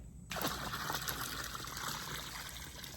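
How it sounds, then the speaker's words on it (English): Liquid starts pouring slowly into pool water after a brief quiet moment, a close, steady splashing trickle that continues to the end. "then I'll just pour it in slowly"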